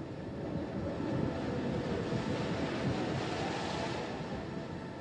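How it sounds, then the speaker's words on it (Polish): Roaring surf and gusting wind of a powerful storm on the open sea form a dense, steady wash of noise that swells slightly and holds for several seconds, with no voices. "by tam zostać zaatakowaną przez potężny sztorm"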